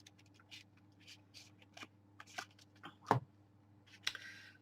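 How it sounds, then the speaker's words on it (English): An oracle card deck gets shuffled and a card drawn, making soft, scattered flicks and riffling taps with one sharper slap near the end, close and quiet against a faint hum. "So I'm shuffling. And let's draw one and see what we get."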